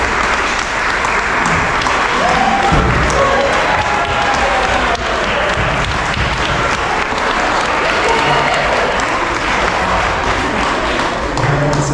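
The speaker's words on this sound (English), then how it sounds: "we'd love for everyone to give them a big round of applause" Sustained, dense applause from an audience at a retirement celebration, loud and even throughout with scattered claps and thumps standing out.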